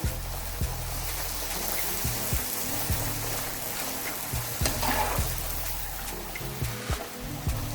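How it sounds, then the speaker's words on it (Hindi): Puri frying in hot oil hisses with a steady, loud sizzle while a spoon repeatedly stirs and taps against the pan in regular knocks, heard close up. "चम्मच से हम इसको ऊपर से जैसे ही पूरी डालेंगे ऊपर से चम्मच चलाते रहेंगे ताकि पूरी अच्छे से पक जाए और फूल जाए"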